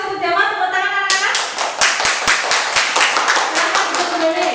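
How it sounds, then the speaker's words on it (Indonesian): Schoolchildren in a classroom clap their hands together, a close burst of sharp, fairly rhythmic claps starting after a teacher speaks and continuing for a few seconds, with a voice heard again toward the end. "Tepuk tangan anak-anak."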